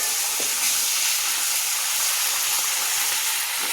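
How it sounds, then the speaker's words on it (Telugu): Washed minced meat hitting hot oil in a pan, a loud, dense, continuous sizzle and hiss held steady from start to finish, close and without talk. "ఇప్పుడైతే ఆయిల్ బాగా కాగింది కదా, ఇప్పుడు నేను కడిగిన కీమాను వేస్తున్నానండి"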